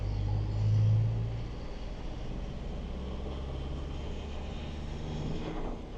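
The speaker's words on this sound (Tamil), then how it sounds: "நான் 2200 ஆர்பிஎம்ல கியர் ஷிஃப்ட் பண்ணுறேன். Second gear and third gear." A 2026 Force Traveller N 3350 AC van's diesel engine rumbles steadily under load as it accelerates, shifting from second into third gear around 2200 rpm, with a louder swell near the start and continuous road and wind noise throughout.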